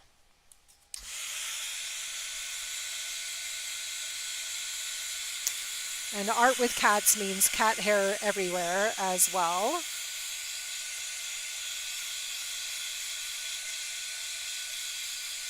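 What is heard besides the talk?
craft heat dryer blowing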